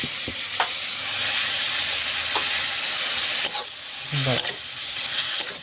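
Chicken with bottle gourd sizzles steadily in a hot pan as it is sautéed, a loud continuous frying hiss throughout, broken by a few scraping stirs of a utensil close by.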